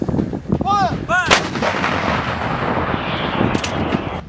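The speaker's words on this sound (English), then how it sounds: "They use our techniques and tactics, and they learn how to emplace the howitzer and learn artillery." A howitzer firing during a US and Latvian military training exercise, a very loud close blast that rolls into a long rumbling echo, with faint shouted commands just before it.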